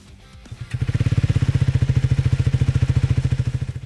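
A Triumph Speed 400 motorcycle with a 400 cc engine starts up and settles into a steady, rapid thumping idle, each firing pulse distinct and evenly spaced, loud and close.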